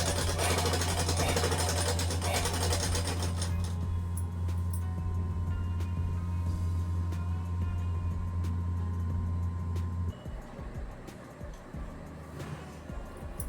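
Sewing machine running steadily while stitching the side edge of a salwar waistband, a continuous close mechanical whir that shifts and turns more uneven near the end.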